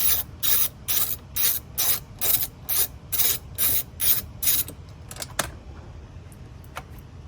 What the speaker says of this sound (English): get that 19mm bolt loosened. Once you get it loose, take it out.